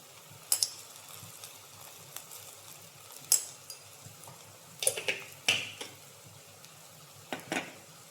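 A spoon stirs chicken masala and spices in a frying pan, giving a quiet sizzle broken by scattered scraping and clinking taps against the pan, close by with no talking.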